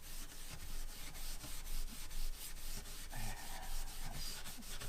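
A restored Outback barbecue surface is gone over with finer abrasive, giving a steady, quiet rubbing and sanding hiss with rhythmic back-and-forth strokes, heard close up and alone.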